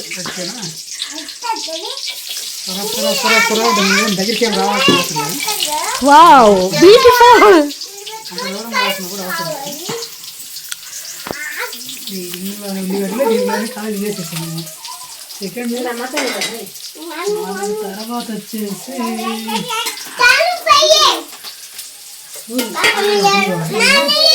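Onion pieces hit hot oil after mustard seeds splutter, a bright frying sizzle running underneath someone talking continuously over it.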